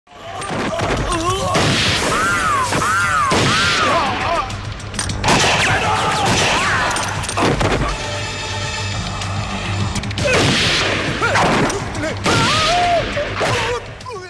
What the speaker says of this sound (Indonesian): tiba-tiba Batsah justru menembaki anak buah Tapar